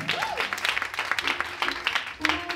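A church congregation claps in acclaim of the Lord, a short burst of uneven applause with some scattered voices and a brief tonal sound mixed in.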